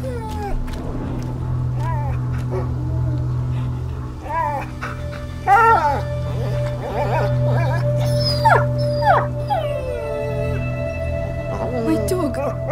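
A dog whimpers and howls in the video game A Plague Tale, with wavering whines over a low steady ambient hum, while characters speak over it.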